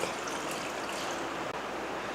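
Steady watery rush of water poured onto mutton, continuous and fairly close for a couple of seconds.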